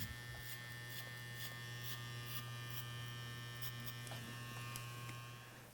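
An electric hair trimmer cutting a low fade combover close to the mic gives a steady, unbroken buzz with a strong low hum that holds throughout.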